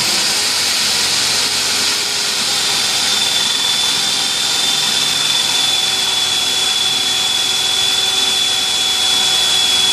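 A power drill bores holes to mount a vise, a loud, steady, continuous whine and rush that holds unbroken for the whole stretch.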